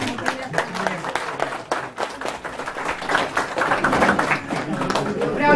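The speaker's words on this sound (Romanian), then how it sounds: "nu rămâne decât să vă aplaudăm tare și frumos" Warm applause from family and guests at a village home gathering in Ciolacu Vechi, Fălești, with uneven hand claps that grow denser toward the end while voices talk underneath.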